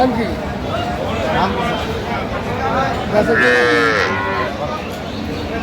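At the Aftabganj cattle market in Dinajpur, cows and calves moo, with one loud, close moo standing out over constant crowd babble from the busy market.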